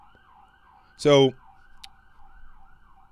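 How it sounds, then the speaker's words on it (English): An FDNY ambulance siren wails faintly in the distance with a steady rising-and-falling pattern, interrupted by a brief loud spoken word nearby. "That's FDNY ambulance."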